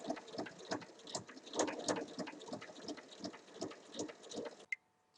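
A sewing machine runs a 1 mm topstitch around the edge of a fabric clutch bag: a close, steady, rapid patter of needle strokes that continues for several seconds, then stops abruptly with one small click.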